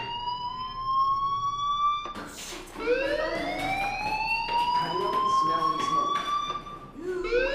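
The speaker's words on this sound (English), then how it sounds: "do you hear that fire alarm? That means you should be outside." A fire alarm wails in the video game Life is Strange, its loud, steady electronic tone sweeping upward in repeated rising glides and running for the whole stretch.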